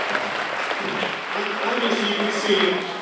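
An audience at a school anti-bullying presentation claps for a speaker, a moderate steady patter of applause with a person's voice talking over it.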